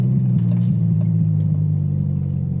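Steady low rumble of a car engine idling and rolling slowly as it pulls into a parking bay outside a car-detailing supply store, continuous and close with no talk.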